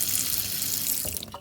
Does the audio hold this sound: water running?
yes